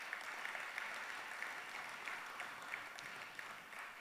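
An audience claps steadily at an awards ceremony and reception for a memorial lecture, the applause heard at some distance and fairly faint, sustained without a break.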